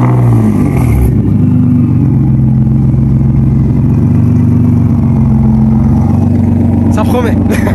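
Nissan GT-R R35 Stage 3 tuned to over 800 hp fires up with a sharp start, then settles into a loud, rumbling idle with low clattering pulses, recorded up close as people talk nearby.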